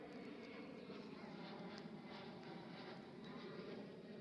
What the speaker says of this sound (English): as you hear the plane activity on the podcast